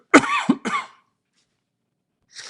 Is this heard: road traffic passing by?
no